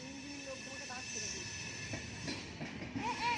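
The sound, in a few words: train passing by near a station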